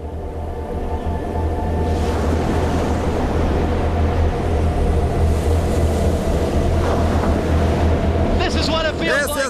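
Hurricane storm surge waves about 1.8 metres high push the sea onto land, a loud, continuous roar of surf and wind buffeting the microphone, with a voice speaking faintly near the end.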